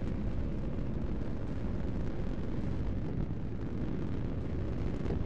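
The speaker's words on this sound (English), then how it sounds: "Launching missile." A missile launch and blast in a real-time strategy space battle with rocket shuttles, heard as a steady, dense low roar with rumbling bursts that fills the whole stretch without letting up.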